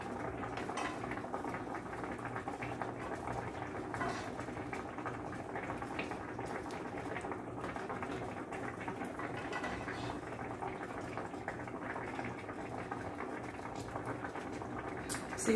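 Steady bubbling and rolling boil of brown rice cooking in a pot, a continuous busy churn with no talking.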